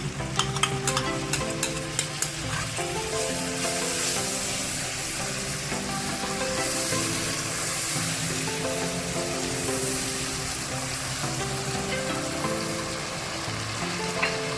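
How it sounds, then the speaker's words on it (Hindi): Masala mixed with yogurt fries in a pan with a steady, dense sizzle while a spoon stirs and scrapes rhythmically, close and fairly loud throughout. "अब जरा हल्की आंच में 2 मिनट के लिए मसाले को भूनूंगी।"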